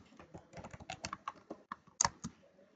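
Rapid clatter of keys on a computer keyboard while a product description is typed, close and crisp, with irregular bursts of keystrokes and a louder pair of taps near the end, no talking.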